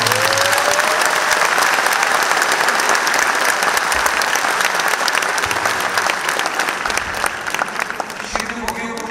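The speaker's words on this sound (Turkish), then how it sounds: "Emre'ye kocaman bir alkış." A large crowd at an Istanbul political rally for Mayor İmamoğlu breaks into loud, dense, sustained applause, with cheering voices mixed into the roar throughout.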